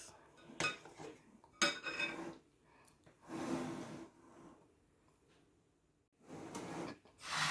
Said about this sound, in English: Well, I've just got my baking tin. This is like a medium baking tin.